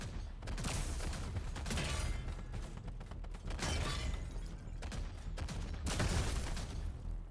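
Turrets firing on a tank in the video game Tankhead, with bursts of rattling gunfire and heavy impacts in several loud volleys amid constant noisy rumble.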